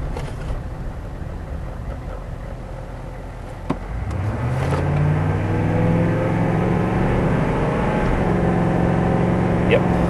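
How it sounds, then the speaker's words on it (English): A green pickup truck on a transmission test drive, engine droning steadily inside the cab, then rising louder and deeper after a sharp click as it pulls into the next gear and holds a strong, even hum. "Plunk into the next gear."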